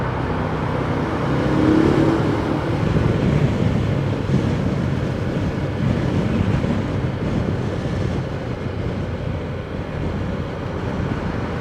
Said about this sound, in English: the sound of that amazing Termignoni full race system exhaust in a tunnel like this